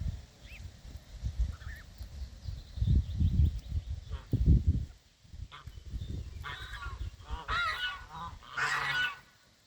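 Geese honk repeatedly at close range while grazing on grass, a run of nasal calls over a low rustling, shuffling background, with no talk.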